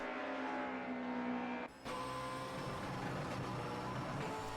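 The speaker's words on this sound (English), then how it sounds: "the V8 Audi certainly has a nice sound to it" A V8 Audi DTM race car engine in a racing video game at Hockenheimring roars steadily, briefly cutting out for a gear change before surging back at high revs.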